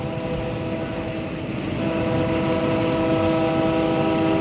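A train rolls past with two engines, a steady loud rumble carrying sustained horn-like tones that swell midway through, with no talking.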